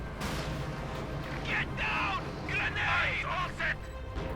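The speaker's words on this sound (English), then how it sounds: "You got the Katyusha singing there a terrible song." Katyusha rocket artillery fires in the video game Company of Heroes 2 as a steady, rumbling barrage with whooshing launches under a commentator's talk.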